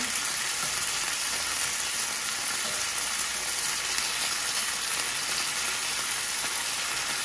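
Thinly sliced steak for Caribbean pepper steak fries in a pan just after being flipped, giving a close, even sizzle that holds steady throughout.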